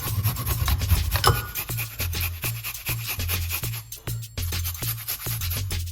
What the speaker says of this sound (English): grate the ginger, nice little chunk of ginger